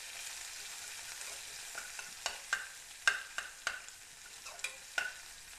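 Chopped onions frying in a pan for beetroot poriyal, a quiet sizzle with a run of sharp spatula scrapes and taps on the pan growing more frequent in the second half, close by and without speech.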